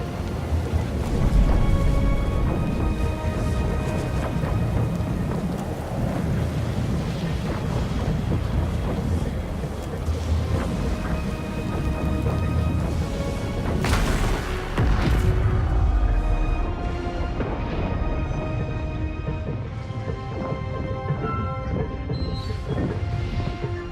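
A storm-controlling machine in the video game Pillars of Eternity II: Deadfire roars with dense rumbling, crashing wind and water-like noise, a loud steady wash that swells with a sharp burst around the middle before easing slightly.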